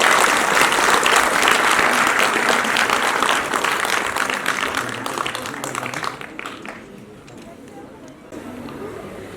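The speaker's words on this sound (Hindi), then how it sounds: "जोरदार तालियां तो होनी चाहिए सबके लिए।" Audience applause at the inauguration of a three-day cultural festival, loud sustained clapping from a large crowd that fades out over the last few seconds while a voice speaks over it.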